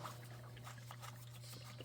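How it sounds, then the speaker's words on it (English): Fuel drains from the opened water fuel separator on a Cat C-15 diesel engine, a faint, steady trickle over a low, constant hum with no talking. "Open it up to drain it."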